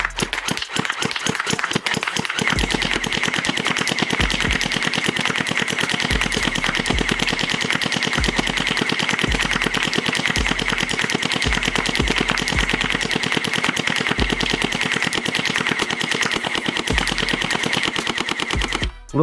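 A SplatRBall Dude Perfect gel blaster fires at a target in long, rapid, loud mechanical bursts. An evenly pulsing motor rattle runs throughout, with a few separate shots at the start.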